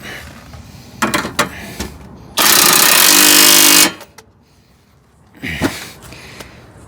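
A pneumatic impact wrench fitted with a socket tightens bolts on a vehicle during hot-weather mechanic work. It lets out one loud, sustained rattling burst of about a second and a half, close up, between shorter clanks of tools.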